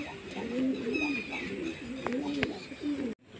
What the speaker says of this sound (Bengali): তো পায়রাগুলো সব ভিতরে ঢুকে গেছে, আমি এবার এদেরকে ভিতরে খেতে দেব।